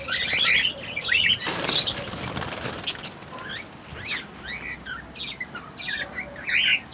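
Baby budgies chirp in bright, scattered bursts inside a cage while wings flap and rustle nearby, with a sharp flurry of flapping early on and busy close activity throughout.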